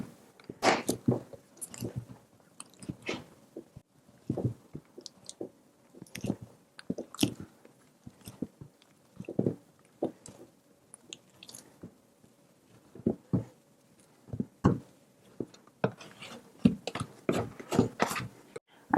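Hands kneading butter into sweet German stollen dough make soft, sticky squelches and slaps in an irregular rhythm, close but quiet, with pauses between pushes.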